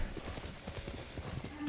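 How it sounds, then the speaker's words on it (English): A horse ridden through open country in Ghost of Tsushima, its hooves clopping in a quick, even rhythm at moderate distance, with faint talk under it. "So we're kind of riding our horse around here."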